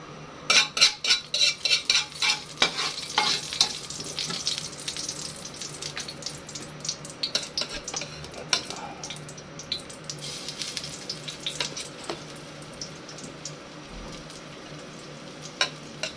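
Garlic and ginger being sautéed in a pan for a salmon head dish, with a low sizzle beneath repeated metallic scraping and stirring clinks, busiest at the start and thinning out later.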